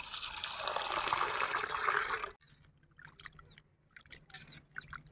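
Prawns from a pond being rinsed in water, with a loud rush of running water for about two seconds, then quieter splashing, trickling and drips as the prawns are handled.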